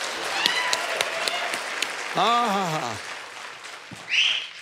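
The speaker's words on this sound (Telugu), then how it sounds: "చప్పట్లు కొట్టండి" Studio audience at a Telugu talk show claps in a brief burst of applause, with a whistle rising through it and a host speaking over the scene.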